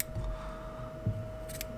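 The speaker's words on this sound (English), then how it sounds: "take scissors and just start shaping this fluff ball" Scissors snip and trim fluffed orange yarn into a round egg fly for steelhead, salmon and trout; a couple of faint, close cuts sound over a low steady hum.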